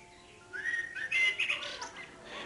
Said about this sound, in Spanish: Fíjate cómo hay pajaritos